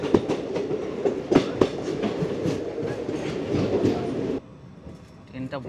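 A train climbs a hill with a loud, steady rumble and uneven wheel clatter. The noise cuts to a quieter hum near the end, and voices are faintly present.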